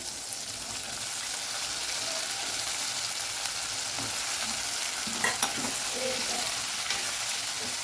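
Brinjal and drumstick pieces sautéing with tomato in a pan for village-style dry fish curry, a steady broadband sizzle with a few brief stirring scrapes and clicks, close and continuous with no talking.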